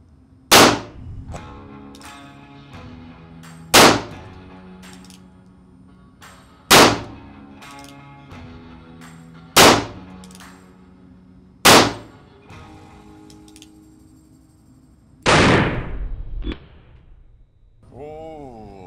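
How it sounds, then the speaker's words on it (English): An original Colt revolver of the Old West fired at a shooting range: six sharp, loud shots spaced evenly a few seconds apart, each ringing out briefly, then a rougher blast and some clanking at the end. "I'm ready to go to full cock and shoot when you guys are"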